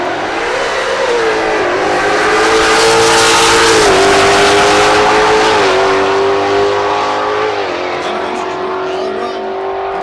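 A Ford Mustang drag racing car launches down the strip at Texas Motorplex, Ennis, Texas, its engine roaring loud and close as the pitch climbs through several gear changes, then fading slightly at the end.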